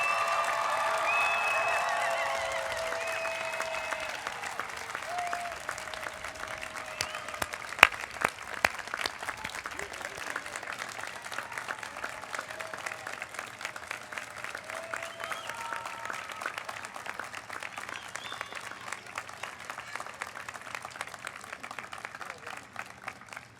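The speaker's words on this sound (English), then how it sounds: "please join me in a round of applause" Audience applause for student pharmacists being presented at a white coat ceremony, a sustained, even wash of many hands clapping that holds steady throughout, with a faint voice near the start.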